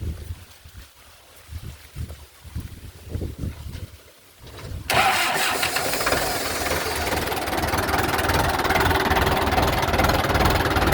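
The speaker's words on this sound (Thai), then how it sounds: "เดี๋ยวลองฟังเสียงเครื่องกันหน่อย" A truck engine, a 6600 model, turns over and starts, then settles into a steady, loud, rumbling idle close to the microphone for several seconds after a quieter stretch of background noise.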